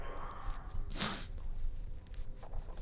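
A single short, sharp nose blow into a tissue from someone with the sniffles, one burst standing out over a quiet background.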